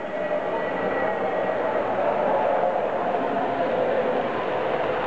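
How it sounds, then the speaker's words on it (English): A model railway freight train rumbles past steadily at close range, a continuous rolling clatter of wheels on track that holds level throughout. "Here comes the freight train."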